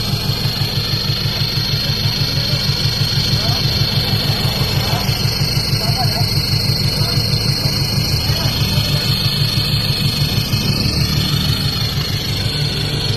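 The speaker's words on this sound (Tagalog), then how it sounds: "So, ayan na yung cold start niya. Grabe, sarap ng sipol ng tambutso." A Toyota Hilux Vigo 1KD diesel engine idles steadily at cold start with a rhythmic low throb and a thin, sustained high-pitched whistle from the exhaust running throughout.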